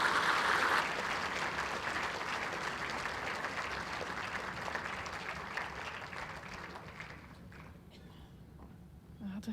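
Enthusiastic applause from the crowd at an indoor bowls world championship starts loud and dense, then gradually thins and fades over several seconds, leaving scattered claps and quiet murmuring.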